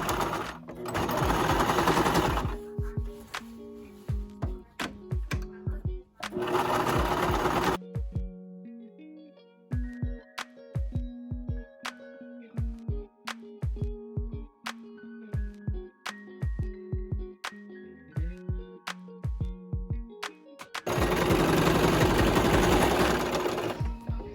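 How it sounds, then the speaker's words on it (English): A sewing machine with regular thread and bobbin runs a straight stitch on a men's shirt being remade into a shirred crop top. It comes in three loud, steady whirring bursts, with quiet background music and tapping in the gaps between. "So just using the regular thread and the bobbin, we're gonna do a straight stitch, and don't forget to backstitch as well."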